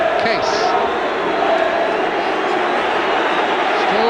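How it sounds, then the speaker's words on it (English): Dense football crowd noise at Goodison Park during the 1981 Everton v Liverpool FA Cup tie, a sustained roar of disapproval with jeering swelling and holding steady throughout, with a commentator's voice running over it. "the booing won't put him off"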